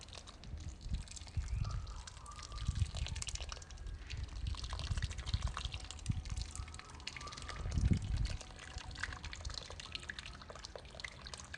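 Water trickles and splashes unevenly onto soil around a rose cutting, with soft drips and small handling noises in between; no one speaks.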